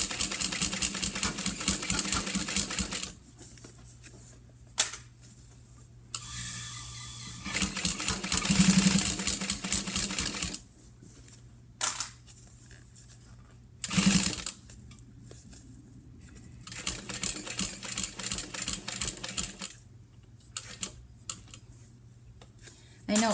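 A sewing machine stitches binding onto a quilt in several separate bursts of rapid, close mechanical chatter, broken by pauses and quieter handling noise.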